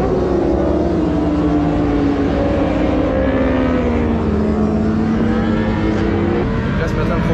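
Engines drone and whine continuously, rising and falling in pitch as race cars circle the nearby Paul Ricard circuit during the Ultimate Cup, loud and unbroken.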